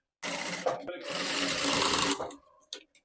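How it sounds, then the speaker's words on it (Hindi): A sewing machine runs a steady stitch along the folded edge of a blouse, close and fairly loud for about two seconds with a brief break, then winds down into a couple of faint taps. "इस तरीके से एक सिलाई इसमें लगा देना है"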